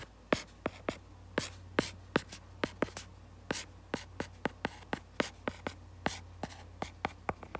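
A pen scratches out a string of math terms for a geometric series, making quick, sharp strokes in a steady, close and fairly loud rhythm with no talk.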